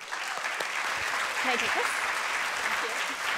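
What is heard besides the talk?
applause for Sandra Lopez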